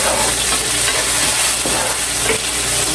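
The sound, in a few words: sautéing garlic, onion and tomatoes in a pan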